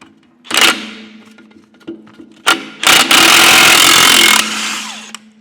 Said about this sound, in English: Let's try the impact wrench on it here.